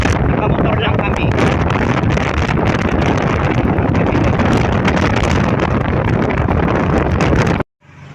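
Riding on a motorcycle outdoors: loud, constant wind buffeting and engine roar, close to the microphone, before cutting off abruptly near the end.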